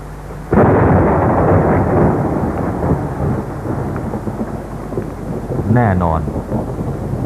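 Steady heavy rain with a loud rumble of thunder rolling through, dense and close, with wind noise on the microphone.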